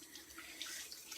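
Tap water running steadily as a face is rinsed under a shower, a continuous close hiss of flowing and splashing water with no voices.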